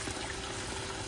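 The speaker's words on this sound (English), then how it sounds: "Add water to the sand" Water being poured onto sand in a gold spinner for fluidizing the feed: a steady, hissing, faint wash of liquid that runs without a break.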